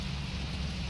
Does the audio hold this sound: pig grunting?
no